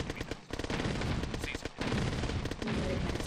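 Machine gun infantry firing in Command & Conquer Red Alert, dense rattling bursts of automatic fire that run almost continuously with brief gaps, loud and close, mixed with battle noise.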